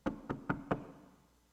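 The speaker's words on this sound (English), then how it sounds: "We knocked on the door." Four sharp, evenly spaced knocks ring out close by on the door of an upstairs apartment above a general store. A quiet fade follows the knocks, with no voices.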